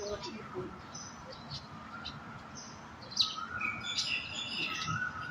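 Birds chirp and tweet in bright, scattered morning calls over a steady, noisy outdoor background, growing busier toward the end.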